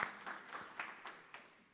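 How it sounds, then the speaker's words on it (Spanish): An audience at an international artificial intelligence congress applauds the panelists: a brief round of fairly faint, moderately paced clapping that swells in several soft waves and then tapers. "un fuerte aplauso para los panelistas"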